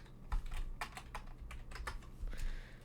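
Keys on a computer keyboard clack in quick irregular bursts during a Minecraft building session, close and clear over a low background hum.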